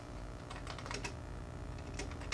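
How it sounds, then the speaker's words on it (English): Steady typing on a computer keyboard, a continuous patter of key clicks with a few louder taps, close and alone with no talk. "I'm going to type my question in here"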